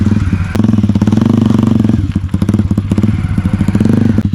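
A Hero Splendor motorcycle engine chugs along close by with a steady, throbbing rhythm, mixed with rough clattering and thumps as it pushes through loose sand off-road.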